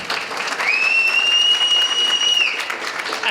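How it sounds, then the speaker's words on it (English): A club audience at a science talk night applauds an entomologist, with dense steady clapping that fills the whole stretch, close and loud, and a sustained high whistle riding over the middle of it. "round of applause for Jean."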